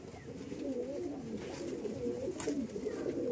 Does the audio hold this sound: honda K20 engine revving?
no